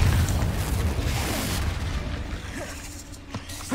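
Confringo blasting spell in Hogwarts Legacy, a heavy booming explosion with deep low rumble that opens loud and decays gradually, followed by a few smaller bursts and pops.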